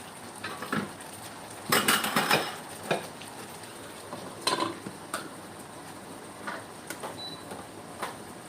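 A metal lid clatters onto a pan of egg masala in a home kitchen, with a few sharp knocks and scrapes followed by lighter scattered clinks, close and clear against a quiet background.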